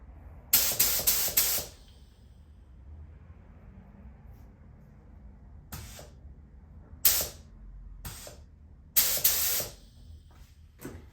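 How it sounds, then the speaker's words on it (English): A paint spray gun lays paint on a Datsun roadster in short hissing bursts: a rapid cluster of four near the start, then single and paired blasts spaced a second or two apart over quiet shop background. "I'm gonna see if I can get my spraying pattern correctly."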